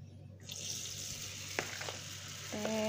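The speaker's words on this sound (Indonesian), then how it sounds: "saya mau goreng terong ini terongnya" Batter-coated eggplant fries in hot oil, sizzling steadily after an abrupt start, with a few faint clinks over the frying.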